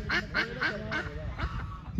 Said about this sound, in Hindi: ये सैकड़ों में डक्स हैं, सैकड़ों में।